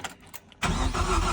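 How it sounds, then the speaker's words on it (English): Ford EcoBoost engine swapped into a BMW E36 cranking over on a first start, preceded by faint clicks, then a loud, steady whirring crank that runs continuously to the end. "We cranked it to prime everything."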